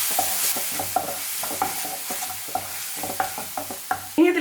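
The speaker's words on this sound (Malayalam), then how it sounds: "നന്നായിട്ടൊന്ന് മിക്സ് ചെയ്ത് കൊടുക്കാം." A spoon stirs an egg mixture with chilli sauce and tomato ketchup in a hot pan, giving repeated scraping strokes in a loose rhythm over a soft continuous sizzle, close and clear.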